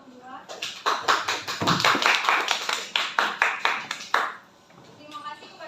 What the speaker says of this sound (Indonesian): beri aplaus kepada kelompok 2